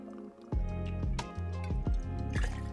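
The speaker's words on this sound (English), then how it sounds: "Next, I'm going to add 2 ounces of Goslings Rum." Goslings Rum pours into a cocktail mixing vessel in a series of close, liquid glugs and splashes with a brief pause at the start, no talking over it.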